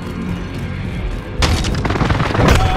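A loud, close airstrike explosion booms in a military shooter game, a sudden heavy blast followed by rumbling aftershocks and scattered crackling bursts.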